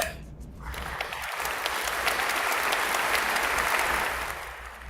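An audience claps loudly and continuously at a live stage comedy show, the broad applause swelling after a brief quiet start and holding steady before easing slightly at the end.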